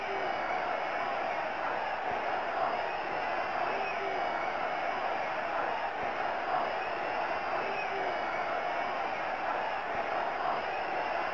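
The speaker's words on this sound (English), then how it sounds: "The atmosphere is tense as the crowd waits for the game to start." A stadium crowd murmurs and hums steadily in the PS2 soccer game Soccer America: International Cup (2001), a constant distant roar with no distinct cheers.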